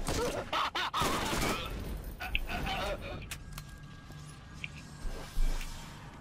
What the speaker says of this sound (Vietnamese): cứ mỗi lần mà lụm mấy cái co đó là sẽ có cái hiệu ứng nổ đùng đùng đùng đùng vậy